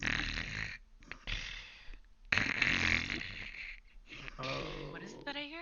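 A voice imitates snoring in the grass during a tabletop role-playing game session, with rough, wheezy snorts repeated in several bursts, close and fairly loud, alongside a bit of talk.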